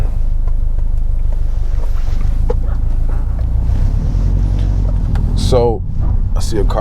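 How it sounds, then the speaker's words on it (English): A car goes by on a sloped road, heard from inside a 2020 Subaru WRX STI with a manual gearbox: a steady low road and engine rumble with wind noise throughout, and a person talking over it. "I see a car coming behind."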